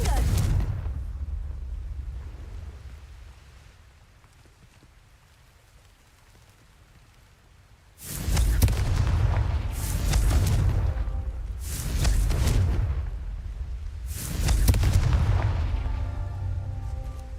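Confringo fire-blast spells cast in the video game Hogwarts Legacy, four loud bursting explosions after a quiet dark stretch, each a broad crackling boom with a ringing tail, arriving about every two seconds.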